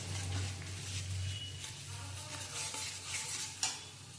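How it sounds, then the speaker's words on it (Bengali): Spice paste with paneer cooks down over medium heat in a pan, a low, gentle sizzle under repeated stirring scrapes, with a sharper utensil knock near the end. "এরপরে আমি এটাকে মিডিয়াম গ্যাস করে ভালো করে কষাবো"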